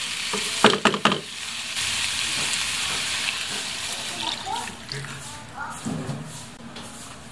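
Water poured into a pan of chicken gizzards frying for sarsiado, giving a loud burst of hissing and splashing that settles into a steady sizzle, with spoon stirring clinks and some talk over it.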